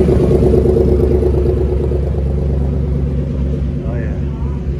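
Steady low road rumble of passing cars, one after another, fairly loud and close, with a faint squeal near the end.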